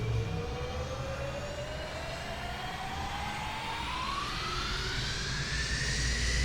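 An SR-71 Blackbird jet engine spools up during start in a flight simulator game, a steady loud roar with a rising whine climbing in pitch throughout.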